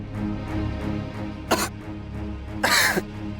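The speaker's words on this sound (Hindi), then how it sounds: "कुछ नहीं, खांसी हो गई थी" A man coughs twice, sharp bursts about a second apart, standing out against a murmur of background music and room tone.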